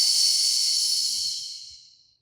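A single long, steady exhale during a Pilates hamstring and hip stretch, close and breathy, fading out smoothly over about two seconds.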